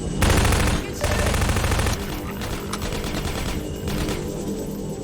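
Rapid bursts of gunfire fill a firefight in Half-Life 2 Episode One, loud and dense at first, then thinning into scattered shots with a sniper rifle in the mix.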